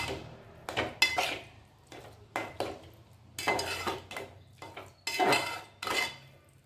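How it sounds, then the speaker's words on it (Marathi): Roasted peanuts being stirred and mixed in a metal pan, a series of short scraping, rattling bursts from a spoon against the pan in an uneven rhythm, close and fairly quiet with pauses between strokes. "ते दाणे चांगले असे मिक्स करायचे पूर्ण"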